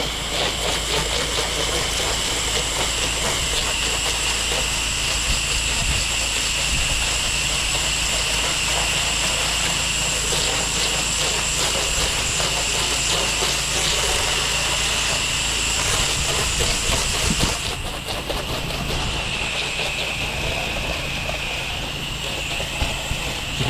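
A pressure washer rinses vinyl siding in a long, loud, continuous hiss of spraying water over a running engine drone, with a brief change in the spray partway through.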